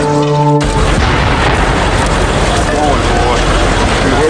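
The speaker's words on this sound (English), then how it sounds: "explosions near Building 7 were recorded up to a few minutes before the building" Explosions recorded near World Trade Center Building 7 during the September 11 attacks: a sharp boom at the start, followed by a loud, sustained roaring rumble with wind-like noise throughout.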